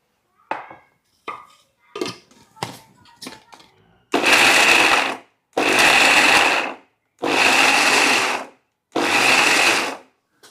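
A kitchen mixer grinder whirs in four loud bursts of about a second each, grinding roasted peanuts, sesame seeds and jaggery, after a few short clattering knocks as ingredients are added.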